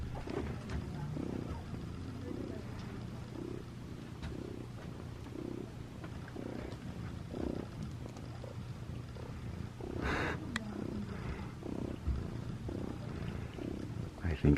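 A friendly bookstore cat purrs steadily and low while being petted, its soft rumbling pulses repeating in a slow rhythm close by, with quiet shop ambience around it.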